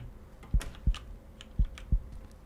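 Heartbeat effect from a horror video game, two paired low thuds repeated twice, close and distinct over a quiet hum.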